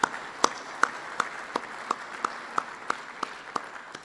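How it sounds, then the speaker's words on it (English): Audience applause at a company offsite keynote event, heard as sharp, evenly spaced claps in a steady rhythm, moderately loud against a quiet room. "A round of applause, please."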